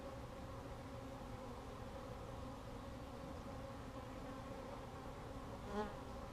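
Agitated honey bees swarm around a hive during an inspection, a dense, continuous buzzing drone from many insects, loud and close, with one bee whizzing past the microphone near the end.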